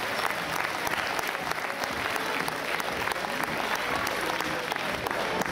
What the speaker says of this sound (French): je vous demande d'applaudir très fort toutes ces équipes étrangères.